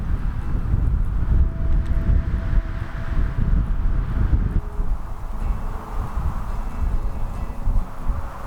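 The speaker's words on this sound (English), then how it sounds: "The sound of the wind going through these trees surrounding the ruins" Wind blowing through trees surrounding old ruins in the outback along the Birdsville Track, a continuous loud rushing roar with gusting buffets on the microphone and no other sounds.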